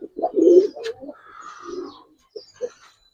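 A male Giribaz pigeon calls alone in a short series of throaty coos, the first burst loudest and closest, followed by softer, spaced pulses with brief quiet gaps.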